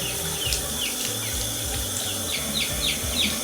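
Tap water runs steadily into a sink or bathtub, warmed to body temperature for washing chickadee chicks, while high chirps from the chicks repeat over the continuous flow.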